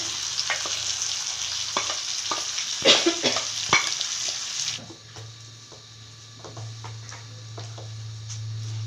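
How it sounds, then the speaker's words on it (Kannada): Cooked lentils and chopped ridge gourd tipped into a pan of frying onions for upsaaru, giving a loud sizzle with clattering stirs that settles into a steady, quieter fry; no talking. "ಈಗ ಈರುಳ್ಳಿ ಎಲ್ಲ ಫ್ರೈ ಆಗಿದೆ. ಈಗ ಬೆಂದಿರೋ ಅಂಥ ಬೇಳೆನೂ ಹೀರೆಕಾಯಿ ಹಾಕ್ಕೊಳ್ಳೋಣ."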